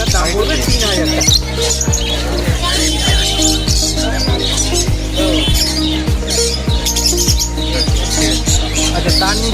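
Cockatiels, including a white-faced adult, squawk and chirp loudly and continuously at a busy pet bird market in Serampore, over a low rhythmic thumping in the background.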